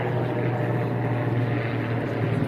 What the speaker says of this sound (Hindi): हमेशा यहाँ हेलीकॉप्टर चलता रहता है।